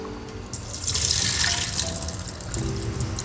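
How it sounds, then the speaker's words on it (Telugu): Water running off a freshly washed goat head being cleaned for soup, a steady splashing pour like a tap into a sink, fuller and louder in the middle stretch, with no voices. "ఫస్ట్ మేక తలకాయ శుభ్రంగా కడుక్కొని ఈ వాటర్ మొత్తం ఇలా తీసివేయాలి"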